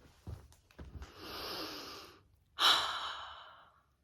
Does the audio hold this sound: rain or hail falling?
no